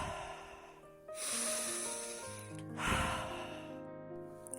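A person draws two deep, slow breaths, each a long airy rush, heard close and alone over a soft music background.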